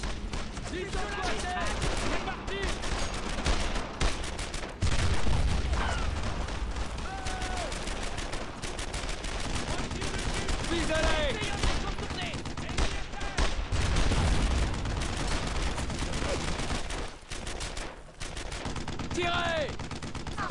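Continuous machine-gun fire and rifle shots rattle through a World War II battle in the video game Brothers in Arms: Earned in Blood, loud and dense throughout, with soldiers shouting over it.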